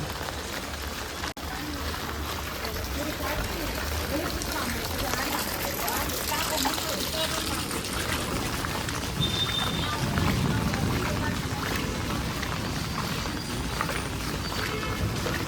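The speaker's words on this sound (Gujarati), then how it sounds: "જો રસ્તામાં ખૂબ જ પાણી છે" A vehicle moves along a rain-flooded street in Surat, India, with continuous rushing and splashing water and road noise. A person talks over it throughout.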